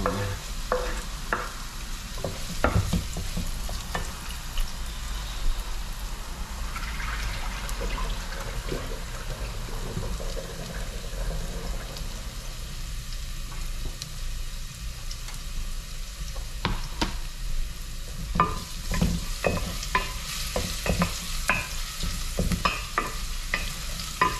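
Garlic frying in oil for chicken feet adobo, a steady crackling sizzle with repeated scraping stirs of a spatula in the pan, close and continuous with no talking.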